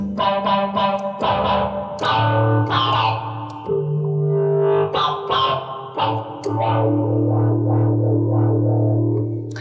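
An analog synthesizer played through a distortion pedal gives bright, buzzing sustained notes and short stabs in a halting melodic line, loud and close, alone without talk.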